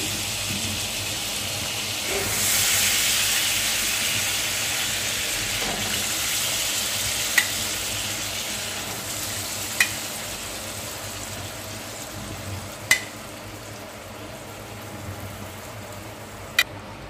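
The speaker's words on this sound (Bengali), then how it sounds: "আমি যেটুকু তেল ছিল তার উপরই মশলাটা দেবো।" Ground spice paste sizzling in hot oil for chicken masala curry: a steady hiss of frying with a louder surge as the paste goes in, and a few sharp pops and spits along the way.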